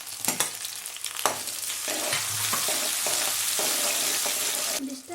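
Mustard seeds and cumin crackling in hot oil in a pan, a loud, dense sizzle with sharp pops early on that settles into a steady hiss, with a brief clatter near the end.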